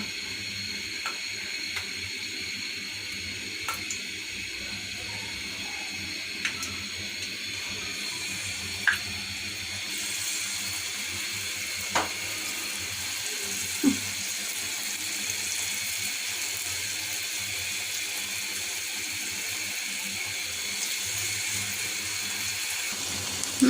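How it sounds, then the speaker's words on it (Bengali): Broccoli pakoras dipped in batter frying in oil over medium-low heat, giving a steady broadband hiss with occasional faint pops and ticks. No voices. "ব্যাটারে ডুবিয়ে তেলের মধ্যে দিয়ে দিব"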